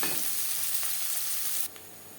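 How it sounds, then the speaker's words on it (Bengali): Onions fry in a pan of hot oil for a chicken curry, giving a bright, steady sizzle up close that drops suddenly to a softer hiss near the end. "পেঁয়াজ ভাজা হয়ে এসছে"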